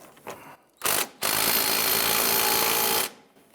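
Power tool tightening the clamp on a front inner tie rod of a 1999-2004 Jeep Grand Cherokee: two brief bursts, then a loud, steady buzzing run of about two seconds that stops abruptly, with no talking.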